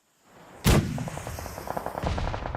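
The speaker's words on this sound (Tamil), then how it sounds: "டீம் 7க்கு டீம் 2க்கு மோட்டர் சண்டை நடக்குது." Mortar fire in a battle royale video game: a sharp, loud blast followed by a rumbling tail and a run of rapid distant pops, with a second impact swelling near the end.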